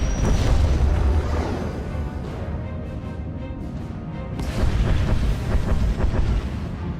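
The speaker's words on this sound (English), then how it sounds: "Proceeding with bombardment, targeting all major population centers." Heavy starship bombardment in Star Wars: The Old Republic over Corellia: a continuous loud rumbling roar of distant explosions and booming impacts that swells again near the end, with no speech.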